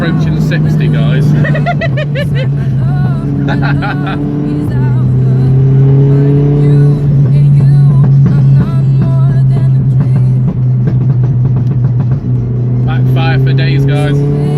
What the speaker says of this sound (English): Backfire for days, guys.